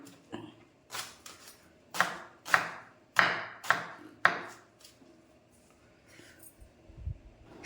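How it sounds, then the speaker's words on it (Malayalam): Sprouted elephant foot yam stems and leaves being chopped with a knife on a board, a run of about eight crisp, evenly paced cuts, fairly close and clear with no talk over them. "അപ്പം ഞാനിത് ഇങ്ങനെ അരിയാം കേട്ടോ"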